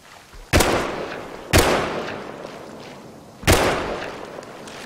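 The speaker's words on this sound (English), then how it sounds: "I always miss the last shot" Three sharp gunshots from a firearm in the survival video game Rust, loud and close, with a long decaying tail after each; the first two are about a second apart, the third follows after a two-second gap.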